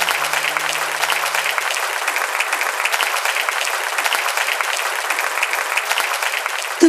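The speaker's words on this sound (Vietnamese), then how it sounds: "Một tràng pháo tay đi" Audience applause rings out steadily after a song at a Vietnamese singing competition show, a dense, even wash of clapping lasting about seven seconds with no talk over it.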